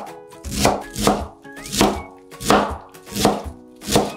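A knife chops cabbage finely on a cutting board, each crisp thud landing at a steady pace of about two per second, close and clear with no talking.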